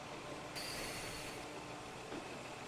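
A train rolls into a station in the railway-building game Transport Fever, a steady rumble of rail cars with faint wheel squeal and a bright whine that rises partway through.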